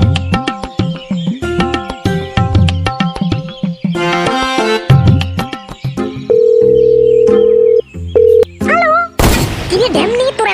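Cartoon telephone ringing in an animated comedy, a sustained electronic tone repeating in bursts over busy music and effects, loud and close.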